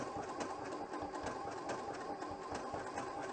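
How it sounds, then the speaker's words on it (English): A Janome sewing machine stitches a hand-look quilting stitch with a blue dot bobbin case, a soft steady rhythmic whir with quick repeating clicks, heard alone at low level. "So this time we're doing hand look setting number 1 with the blue dot bobbin case."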